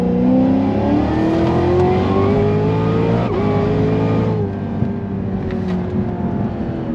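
A powerful Cadillac CTS-V, around 1150 horsepower, revs hard and loud in third gear, its pitch climbing steadily as it accelerates, briefly dipping midway before pulling on with a strong, continuous roar.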